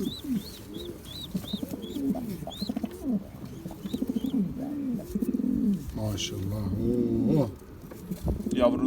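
Pigeons coo steadily in a loft, repeated rising coos with a chick among them, while high chirps and a voice briefly overlap near the end.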